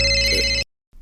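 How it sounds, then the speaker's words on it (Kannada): A mobile phone ringtone plays loud and near with a steady bright tone, then cuts off abruptly into silence, followed by a faint trace of sound. "ಎಲ್ಲೋ ಮೊಬೈಲ್ ರಿಂಗ್ ಆಗ್ತಾ ಇದೆಯಲ್ಲ"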